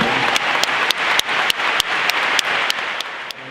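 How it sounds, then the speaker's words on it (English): A large arena audience at Web Summit 2017 applauds the robot Sophia and Albert Einstein with thick, continuous clapping, a few louder claps punching through at a regular beat. "let's have a round of applause for Sophia and Albert Einstein"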